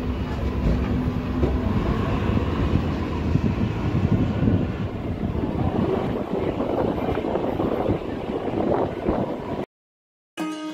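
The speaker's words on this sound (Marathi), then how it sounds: "पंढरपूर रेल्वे स्टेशन वरून मित्रांनो आपली ट्रेन निघालेली आहे" A DEMO train pulls out of Pandharpur railway station in the monsoon, bound for Miraj, with a loud, steady rumble and clatter of rolling wagons mixed with wind. The sound cuts out briefly near the end, then resumes.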